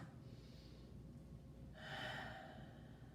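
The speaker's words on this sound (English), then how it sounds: "take a couple of deep breaths" Slow, deep breaths close to the microphone, first a soft inhale and then a louder, breathy exhale, quiet and with no talking.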